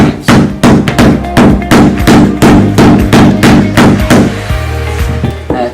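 Luxury vinyl planks are tapped together at the joints with a hammer, giving about a dozen sharp, evenly spaced knocks close by with no talking.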